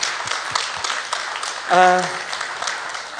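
An audience at an awards gala applauds, a steady wash of clapping throughout, with a voice briefly rising over it partway through.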